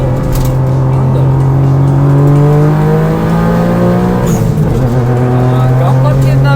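The engine of a turbocharged Suzuki Alto HA23V with a roll bar revs hard and climbs in pitch as the car accelerates. It is loud and continuous, heard from inside the cabin with occupants talking over it.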